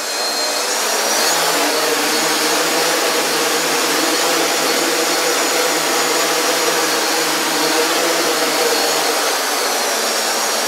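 A CarbonCore Y6 multirotor drone hovering inside a garage: a loud, steady, rushing whine of spinning propellers that holds almost constant throughout, with no talk.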